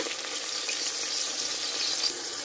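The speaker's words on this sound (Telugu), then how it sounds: "ఈ టొమాటో అనేది కొంచెం మగ్గాలి, అంటే కొంచెం మెత్తగా అయ్యే వరకు ఒకసారి ఫ్రై చేసుకోవాలి." Tomato fries with biryani masala in a pan, giving a steady close sizzle and crackle with faint stirring.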